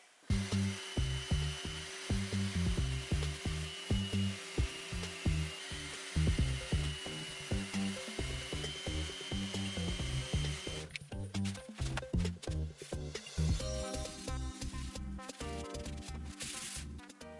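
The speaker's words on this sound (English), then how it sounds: "So now I gotta resand this." A stained 1950s wooden dresser being re-sanded, rhythmic back-and-forth rasping strokes of sandpaper on wood, close and steady, shifting to a harsher tool-like whir in the final seconds, without talking.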